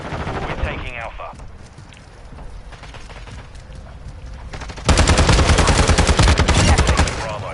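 Heavy automatic gunfire in the video game Modern Warfare 2 erupts in a loud, rapid sustained burst after quieter scattered shots and a voice calling out, the firing dense and close over continuous battle noise.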